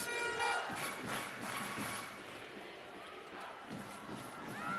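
A stadium crowd at Rizal Memorial sings during a women's football match between the Philippines and Indonesia, a broad, distant wash of voices that swells and fades without a pause.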